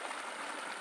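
Steady rushing of river water swollen by heavy rain in the Bicol countryside, a continuous close hiss with no break and no voices.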